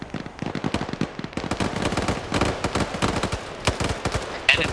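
Rapid bursts of gunfire crackle through a military video game training operation, dense rattling volleys with sharp individual reports, loud and continuous with a brief pause in between.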